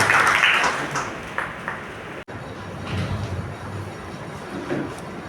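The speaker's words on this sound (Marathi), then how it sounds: "तर आपण टाळ्या वाजवून या सगळ्या मान्यवरांचं अभिनंदन आणि आभार मानूया" Audience applause for dignitaries at a disability workshop and handbook launch, a dense spread of claps filling the hall, loudest at the start, with a brief cut midway and a softer, steady patter after.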